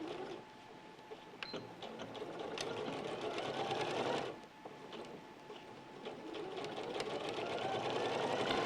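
A sewing machine hums steadily while stitching the side seams of a lined garment, close and continuous with one short dip in speed midway.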